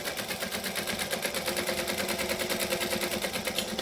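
A sewing machine stitches fabric lined with double-sided tape in a fast, steady rhythmic chatter, close and continuous with no talking.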